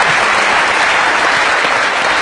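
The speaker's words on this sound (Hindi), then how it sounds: "इस पे तालियां बहुत ज्यादा।" Studio audience on a comedy talk show breaks into loud, dense applause, a continuous roar of clapping that fills the whole moment without speech.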